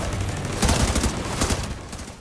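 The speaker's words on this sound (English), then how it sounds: "This guy has a minigun and a full javelin." An enemy minigun in The Division 2 unleashes a brief, dense burst of rapid automatic fire, loud and continuous for a couple of seconds before tailing off.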